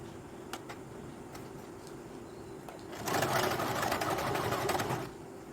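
Sewing machine running a short burst of stitching at the corner of a blouse lining, a steady close whirring rattle after a few faint ticks and clicks of handling.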